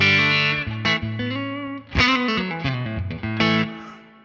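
A guitar rings out in chords through the PR12 amp of the Neural DSP Morgan Amp Suite plugin, a clean tone, each strum decaying into a noticeable reverb tail, played alone with a few sharp attacks.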